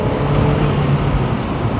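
A 2001–2005 Skoda Octavia vRS accelerates after shifting out of first gear, its engine giving a loud, steady, close-up roar that holds without a break.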